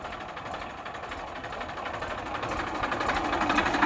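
A 2009 Massey Ferguson 241 DI tractor engine runs steadily nearby, a continuous rough diesel rumble that grows slightly louder toward the end, with no talking.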